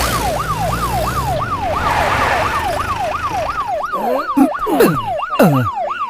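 A police vehicle's siren wails loudly and close by in a fast, steady up-and-down sweep. Near the end, more sliding siren tones and a few sharp knocks join in.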